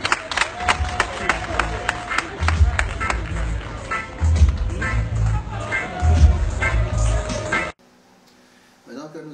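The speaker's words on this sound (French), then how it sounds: "On applaudit." An audience at a live chronicle show breaks into applause, a crowd clapping in uneven bursts with crowd murmur mixed in, building in waves before stopping suddenly, leaving near silence.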